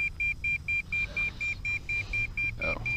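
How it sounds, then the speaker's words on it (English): An RC radio transmitter for an MJX Bugs 3 quadcopter beeps after a crash ejected the battery: regular short electronic beeps, about four per second, high-pitched and fairly clear over a low rumbling background. "That's what the radio's beeping for."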